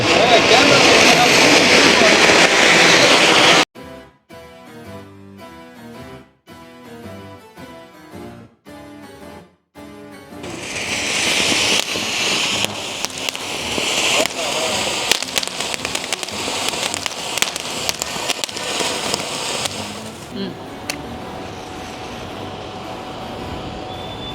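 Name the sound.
flower pot firecrackers bursting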